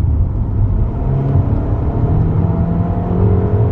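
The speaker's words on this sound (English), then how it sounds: "Acceleration test now." A 2021 Mercedes-Benz GLA 250 with a turbocharged engine accelerating hard, heard from inside the cabin as a steady, loud low engine rumble and road roar that rises slightly in pitch.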